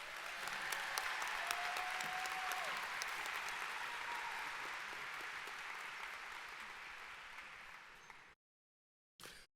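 Audience applauding at a graduation ceremony, a dense, steady wash of clapping from a large crowd that carries on evenly for about eight seconds before cutting off, with a brief burst returning at the very end.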